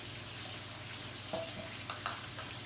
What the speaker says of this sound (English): So while that chicken is just getting browned